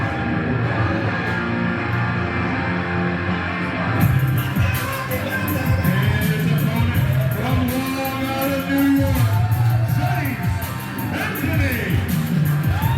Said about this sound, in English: a favorite of the crowd, as you can hear